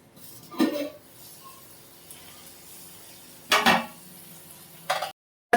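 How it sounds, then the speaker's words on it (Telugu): A spoon scrapes through a pot of village-style country chicken curry in three short, separate stirring strokes, with quiet pauses between them and no voices. "ఇప్పుడు ఒకసారి కలుపుకుందాం"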